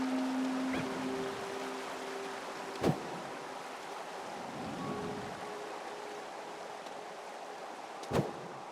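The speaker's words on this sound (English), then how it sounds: "This tumbling waterfall presents a beautiful but dangerous challenge." A tumbling waterfall in the survival game Away: The Survival Series, a steady rushing wash of splashing water running throughout, with two sharp brief clicks breaking through.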